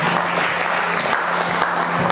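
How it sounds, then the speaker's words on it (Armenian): Wedding guests at an Armenian celebration applauding together, an even, continuous patter of many hands clapping at moderate loudness with a low hum underneath. "եկեք բարձր ծափահարենք"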